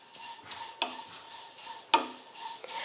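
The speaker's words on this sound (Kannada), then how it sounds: "ಈಗ ಅವಲಕ್ಕಿ ಸ್ವಲ್ಪ ಹುರಿದಾವ್ರಿ ರೀ." Flattened rice (avalakki) is roasted and stirred in a pan for chakli, giving soft scraping strokes with a few sharp clinks of the spoon against the pan and a faint sizzle, quiet and close.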